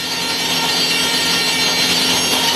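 Timber for hiking shelters being cut at a Danish sawmill: a loud, continuous rasping saw whine, close and unbroken, with no voices.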